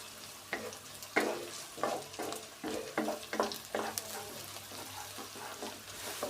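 Green chilli and ginger frying in a pan: a soft steady sizzle broken by repeated scraping strokes of a spoon, several in quick succession, close by.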